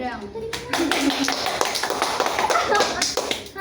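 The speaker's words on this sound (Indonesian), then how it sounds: "Tepuk tangan dulu." A group clapping hands at a casual gathering, a run of quick, uneven claps throughout at moderate distance, mixed with chatter and background shuffling.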